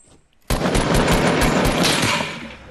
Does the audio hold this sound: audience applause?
no